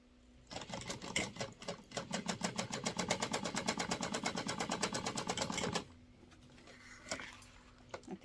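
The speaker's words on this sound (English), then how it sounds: "Now we're going to sew down at 1/4 inch along the top and bottom only, just like the pattern says." A sewing machine stitches a quarter-inch seam along card slots in one steady run of rapid, evenly pulsing needle strokes lasting about five seconds, then stops, followed by quieter handling and a brief softer whir.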